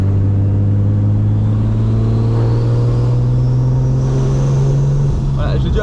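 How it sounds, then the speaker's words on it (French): The engine of a BMW E36 325i with a Maxpeedingrods turbo runs with a loud, steady drone near 2000 rpm, and a rising whistle of the turbo spooling comes in toward the end, close and continuous. "Si j'accélère un tout petit peu on entend le turbo."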